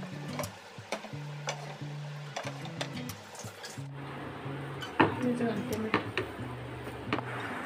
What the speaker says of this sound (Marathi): हळद मिक्स करून झाल्यानंतर बटाटा टाकून नीट मिसळून घ्यायचं आहे